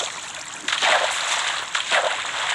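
Splashing water in a video game, two bursts of rushing splash and gurgle over a steady flowing-water bed, fairly loud and close, with no talking.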